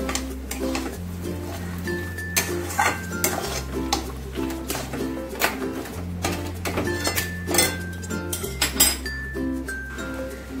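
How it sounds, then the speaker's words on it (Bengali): Spoon scraping and clinking against a pan while moong dal is stirred with a fish head and spices, with repeated metallic taps over steady background music. "এক মিনিটের মতন ডালের সাথে মাছের মাথা আর এই সমস্ত মশলার সাথে আমি ভালো করে মিশিয়ে নেব"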